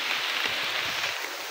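Rain falling on leaves in a forest, a dense steady patter with soft scattered drops, close and continuous without voices.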